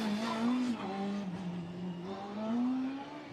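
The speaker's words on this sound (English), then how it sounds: "away goes Strathclyde for their second stint, the electric car from Scotland" The Strathclyde electric Formula Student race car from Scotland drives a timed stint, a steady rising and falling motor whine with a faint tire squeal, moderately near and under no talk.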